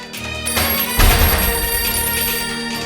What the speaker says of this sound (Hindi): आपकी फोन की घंटी दे रही है।